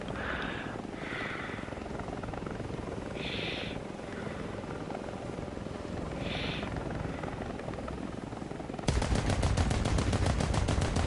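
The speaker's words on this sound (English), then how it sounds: "No, that's just every helicopter in the game, Big Nuts." A steady whirring engine drone, like a video game helicopter flying, runs throughout. It turns into a harsher rapid chatter near the end.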